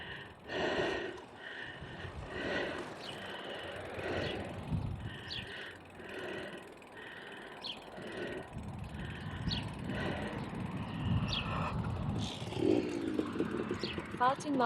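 A two-stroke 50cc motorcycle revs and climbs into its power band, a buzzing engine note rising and falling through the clip beneath near-continuous talk.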